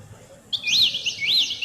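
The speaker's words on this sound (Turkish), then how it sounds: "Tabi bu arada da kuşlar burada." Bright, high chirps from small birds, a few quick rising-falling calls repeated close by over faint background noise.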